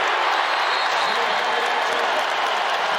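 A basketball arena crowd at a Georgia Tech versus North Carolina men's game erupts in loud, sustained cheering and applause after a turnover, a dense unbroken roar lasting the whole moment.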